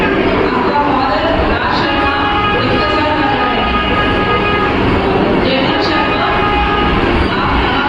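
Busy platform ambience at Secunderabad railway station in India: a dense, constant din of crowd chatter and rumbling trains, with faint tonal horn-like calls cutting through now and then.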